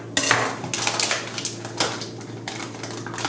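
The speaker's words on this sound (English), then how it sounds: "Right, so now we're going to put in some lardons." Lardons, small pieces of bacon, tipped into a pan, a quick run of light clattering taps and knocks near at hand with no one speaking.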